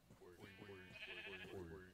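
Several sheep bleat in quick succession in a video game, wavering calls overlapping one another, fairly close and steady throughout with no talking.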